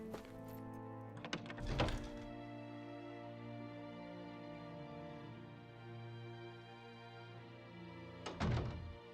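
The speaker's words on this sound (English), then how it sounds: "I always love the sound of hammers banging away." Hammers clank on metal in the video game Tales of Arise, with two separate bursts of banging several seconds apart over steady background music and no voices.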